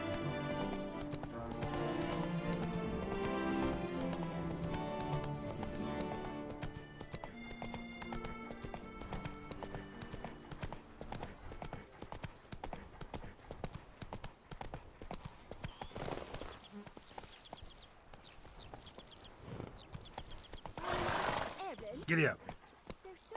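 Horse hooves in the video game Witcher 3 clip-clop in a quick steady rhythm, joined by a whinny, while orchestral music plays and a voice speaks briefly over them.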